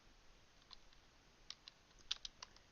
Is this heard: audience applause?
no